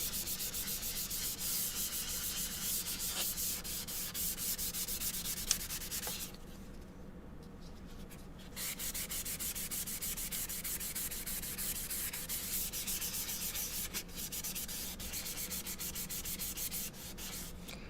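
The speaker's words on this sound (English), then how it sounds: "let's just go ahead and do some light sanding to knock down those graphite lines." Sandpaper is rubbed lightly over a wood-burned mountain waterfall piece to knock down graphite transfer lines. The rasping strokes are steady and continuous, with one brief pause midway and no talking.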